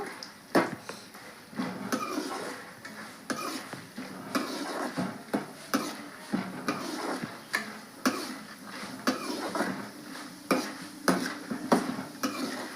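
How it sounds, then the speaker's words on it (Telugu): Lentils frying in oil in a pan, a steady sizzle with repeated scraping and clinking of a stirring spoon against the pan, close and fairly loud. "పప్పులు ఇప్పుడైతే వేసాను ఇవి కూడా బాగా ఫ్రై చేస్తాను"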